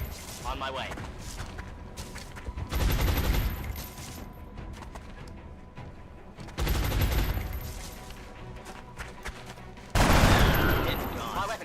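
Gunfire from the XCOM video game breaks out in three loud bursts of rapid shots, separated by quieter stretches of game ambience.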